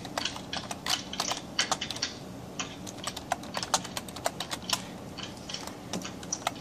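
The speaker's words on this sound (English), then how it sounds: "go into the console and type without a slash, just say time set day" Rapid clattering keystrokes on a computer keyboard, typing a command into a Minecraft console, steady and fairly close with no voices over it.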